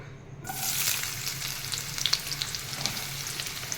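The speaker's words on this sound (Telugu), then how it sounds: "ఆయిల్ వేడైందండి ఉల్లిపాయ వేసుకుందాం" Sliced onion hits hot oil in a pan for an aloo chicken curry, bursting into a loud, dense sizzle that starts abruptly and holds steady with crackling pops, close up and without any voices.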